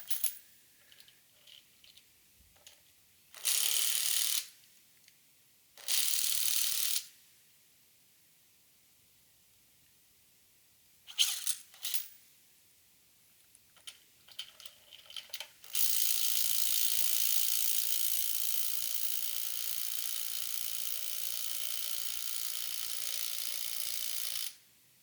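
A fully charged Makita cordless impact wrench fires in a few short bursts, then runs for a sustained stretch of about ten seconds with a steady high whirring hum. It sounds fairly quiet, with no talking.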